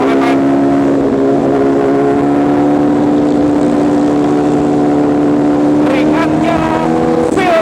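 An MV Agusta Brutale 1000 motorcycle engine drones steadily while riding at the Nürburgring, a loud, continuous close-up roar with rising pitch near the end.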